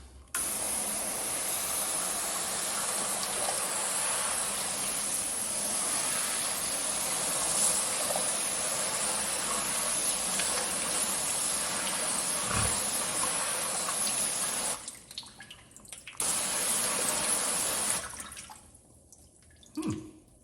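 Water spray rinses a car coated with a ceramic finish, a steady loud hiss of water hitting the paint that runs for about fifteen seconds, briefly cuts out, resumes, and then ends.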